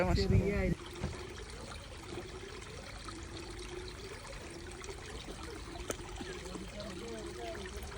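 A stream trickles and burbles steadily at Colchester Zoo, with a brief loud bump at the start and faint voices and outdoor ambience around it.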